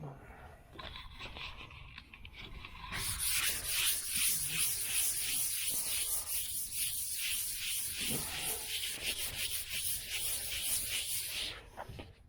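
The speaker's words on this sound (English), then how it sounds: "And just scuff it up real good." Wet-and-dry sandpaper scuffs the painted body of a 1969 Chevelle Malibu, a steady close abrasive rasp that gets louder and continuous after a few seconds, with quiet talk near the start.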